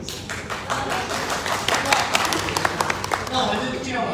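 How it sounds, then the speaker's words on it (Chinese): The audience at a Rotary club talk in Taipei claps in scattered, uneven bursts mixed with voices talking in the room. "掌声给我各位"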